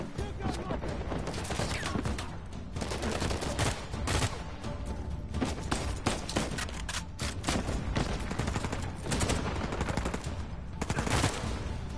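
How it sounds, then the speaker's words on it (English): Sustained, dense automatic gunfire with bursts and scattered shots in a firefight from the Uncharted 4 video game, loud and continuous throughout with no talking. "Who is shooting at me?"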